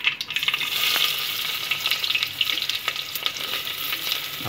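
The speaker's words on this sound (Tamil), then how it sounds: "கடுகு பொரிஞ்சு வந்ததுக்கப்புறம் நம்ம வந்து வெட்டி வச்ச வெங்காயத்தை சேர்த்துக்கிறோம்." Chopped onions frying and sizzling in hot oil in a pan just after mustard seeds splutter, with the base for a Kerala-style fish curry being cooked; a steady, fairly loud crackle with a few stirring clicks and no talking.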